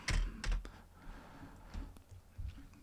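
Typing on a computer keyboard while entering a label into a text field in Unreal Engine 4, heard as close, irregular bursts of clicky keystrokes with short pauses between groups, alone without talk.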